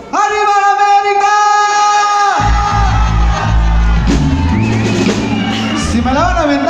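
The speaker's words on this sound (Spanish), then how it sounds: "Y vamos a gritar bien fuerte." A live concert crowd shouts and yells loudly together after a singer's sustained note, a dense roar of voices filling the space.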